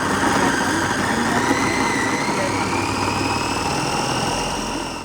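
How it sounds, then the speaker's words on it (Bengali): A blender whirs steadily as it purees shrimp, a loud, continuous motor drone that holds even throughout and eases slightly near the end. "এখন আমি আমি চিংড়ি মাছটাকে আমি একটু ব্লেন্ড করে নিচ্ছি।"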